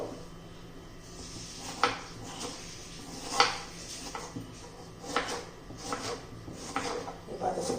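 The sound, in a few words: finely chopping tomatoes with a knife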